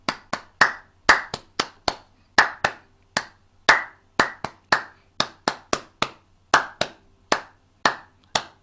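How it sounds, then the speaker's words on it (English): A long run of close, crisp hand claps in a football-crowd style rhythm during a ukulele warm-up, grouped in quick bursts with short pauses, loud and dry, with no voices. "The old football clap."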